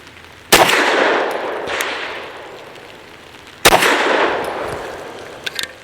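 Two loud pistol shots from a Derya Arms DY9 fitted with an island barrel ring out outdoors about three seconds apart, each a sharp crack with a long fading echo, followed by faint metallic clicks.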